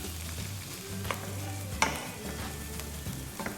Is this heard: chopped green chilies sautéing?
yes